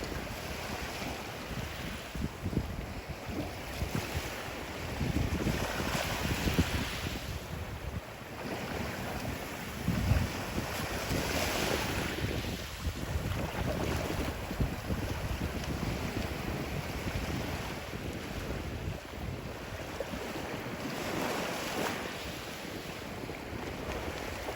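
Waves wash onto a Florida island beach in winter under steady gusts of wind buffeting the microphone, with a continuous surf rumble and repeated swells of breaking water close by and no voices.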